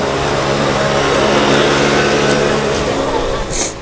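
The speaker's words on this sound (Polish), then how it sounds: "Ktoś pędzi na skuterku." A scooter speeds past on a street in Stockholm, a steady loud engine drone with a brief high whine near the end as it passes close.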